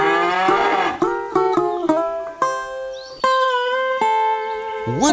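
Several cows moo in turn, long drawn-out lowing calls overlapping one another, fairly close and clear.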